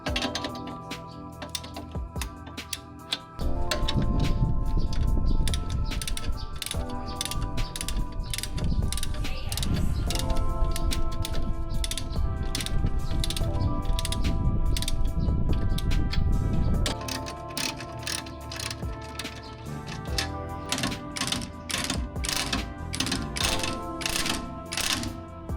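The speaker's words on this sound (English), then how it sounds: "it's a matter of just tightening all bolts all together" Ratchet clicking close by while the bolts on a Honda Jazz/Fit GK rear sway bar are tightened, with bursts of fast rapid clicks that run continuously for long stretches and come loud and alone, without talk.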